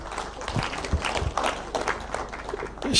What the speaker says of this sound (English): That one deserves a loud applause.